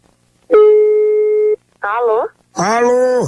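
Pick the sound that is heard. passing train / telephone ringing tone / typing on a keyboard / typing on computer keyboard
telephone ringing tone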